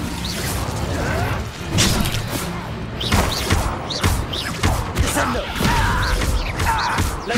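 An Incendio fire spell cast in Hogwarts Legacy, a loud sustained burst of whooshing, crackling magical noise with thuds and impacts stacked over game music, continuous throughout with no clear speech.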